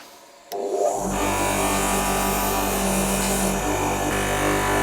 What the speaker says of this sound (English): So now, to polish the rest, I open the tools, corkscrew and reamer